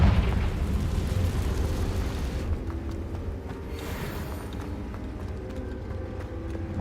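Confringo explosive spell blast in the Hogwarts Legacy video game, a loud roaring burst with heavy low rumble that drops off midway into a lingering crackling tail.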